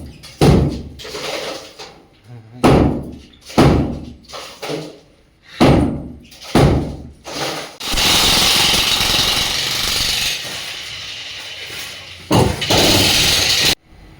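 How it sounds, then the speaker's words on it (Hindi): Heavy hammers break the walls of an old house, a series of loud, close, evenly spaced blows about a second apart, followed by a sustained rumble of crumbling masonry and then a few more sharp strikes. "और अब चल रहे हैं हथौड़े।"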